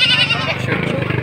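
Goats at a Padre Garcia livestock market bleat in a close, wavering cry, with the crowd's talk running underneath throughout.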